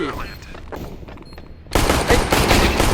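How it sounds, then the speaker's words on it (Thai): Rapid pistol gunfire in Counter-Strike: Global Offensive erupts suddenly after a quieter stretch with a voice, a dense burst of loud shots filling the last second. "ถึงปืนจะเล็กแต่ความแรงอ่ะ ไม่เบาครับผม"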